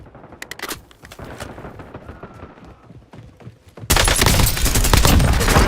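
Video game gunfire, scattered sharp shots at first, then a sudden loud, sustained burst of rapid automatic fire filling the last couple of seconds.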